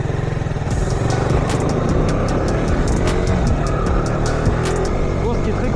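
A KTM RC 125 motorcycle being ridden, its small single-cylinder engine droning steadily and loudly throughout with a continuous buzzing tone and slight pitch shifts as it accelerates.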